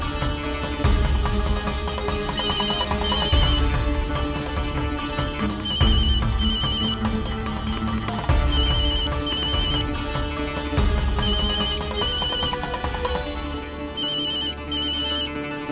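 A phone ringtone from a Hindi television drama rings repeatedly, its bright repeating electronic melody loud and steady over a backing of dramatic music, with no talk during the ringing.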